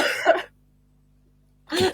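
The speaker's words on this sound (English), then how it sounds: "I wish I could just get rid of this cough" Two close, rough coughs or throat-clearing bursts separated by a second of silence.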